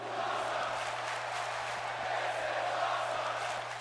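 Arena crowd cheering during a wrestling match in the WWE 2K16 video game, a steady broad roar of many voices held throughout with a low hum underneath.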